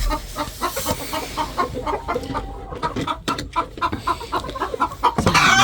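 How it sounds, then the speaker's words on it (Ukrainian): A hen sits in straw wanting to lay an egg, clucking repeatedly in short bursts near the listener, with soft rustling and a louder squawk near the end; no speech is heard. "Тут в мене глушийка сидить, хоче знестися."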